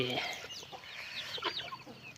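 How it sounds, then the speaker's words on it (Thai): Vietnamese Dong Tao dragon chickens cluck and chatter in a pen, a steady run of short calls close by with faint voices in the background. "มันเป็นไก่มังกร"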